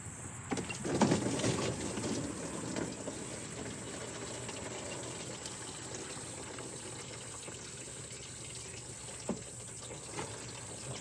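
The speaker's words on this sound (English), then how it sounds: "prop that hose under the exhaust manifold, let that drain out." Coolant drains from a lower radiator hose on a 2010-2014 Subaru Outback, trickling and splashing steadily beneath the engine bay, faint and continuous with a few small clunks and no talking.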